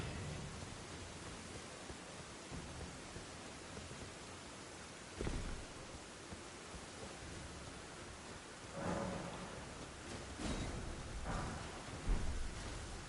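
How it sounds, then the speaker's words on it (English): Steady rain hisses through the Elden Ring game world, broken by several rumbling thunderclaps, a loud one near the middle and more toward the end, with no talking. "It's raining, it's pouring."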